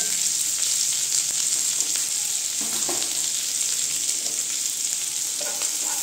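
Chopped carrot, capsicum, onion and green chilli frying in a pan, a constant loud sizzle with soft stirring clatter near the mic and no voices.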